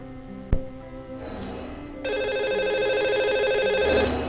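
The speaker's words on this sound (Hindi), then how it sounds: "आइए उन्हें सबसे पहले फोन लगाते हैं।" Telephone ringing while a call is placed to a lucky caller on a radio show: a sharp click, then a loud, sustained electronic ring tone that swells and holds steadily, no talking over it.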